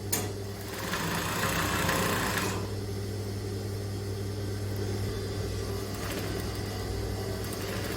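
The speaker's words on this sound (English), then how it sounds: "I just sew straight down." A sewing machine runs steadily, stitching a straight line on skirt fabric, its motor humming in a continuous even drone under a brief louder stretch at the start, with no speech.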